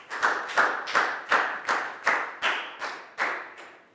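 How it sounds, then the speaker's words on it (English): A few classroom claps during a Year 4 English lesson celebrating a student, about ten sharp, evenly spaced hand claps in a steady rhythm, close and clear with no talk. "a big round of applause for Pak Bung"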